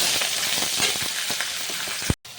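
Bay leaf and chopped onion frying in hot oil in a wok, giving a loud, steady sizzle with soft stirring scrapes and a sharp knock near the end before a brief cut.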